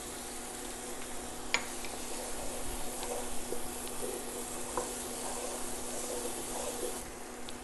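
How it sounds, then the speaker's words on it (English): Fennel seeds sizzle in a hot pan with a soft, continuous frying hiss, broken by a few light clicks and pops against a faint steady hum. "Now we're going to add our fennel seed."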